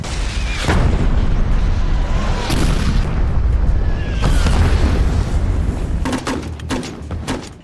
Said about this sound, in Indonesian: meminta bantuan tembakan artileri guna menekan posisi musuh di sekitar area